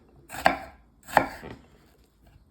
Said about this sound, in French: on prend l'oignon et on va faire des petites incisions comme ça, dans toute la largeur